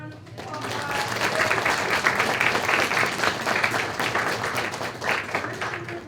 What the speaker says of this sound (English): All right, if you'll help me give them a big round of applause.